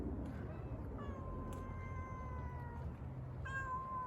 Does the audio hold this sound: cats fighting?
yes